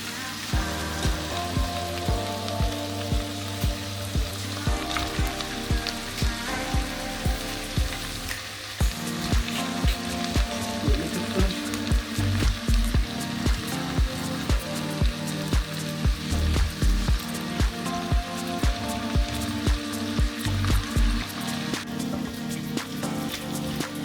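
Tomatoes and carrots hiss and crackle loudly in a pan with browned onions, a dense continuous sizzle with louder bursts as the food is stirred, heard up close and alone.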